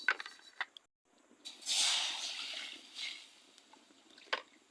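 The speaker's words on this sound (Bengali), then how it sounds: "পানি দিয়ে দিচ্ছি" Water poured into a pot while cooking taro stolons with dried fish, a soft splashing pour in the middle preceded and followed by faint clicks and utensil taps.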